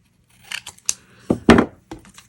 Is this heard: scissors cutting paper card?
yes